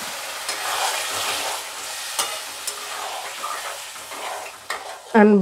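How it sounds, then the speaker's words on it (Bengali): Spices for an egg curry sizzle in hot oil while a utensil stirs and scrapes the pan, with a sharper clink near the end. "মশলাগুলো দিয়ে এবার ভাজা ভাজা করব"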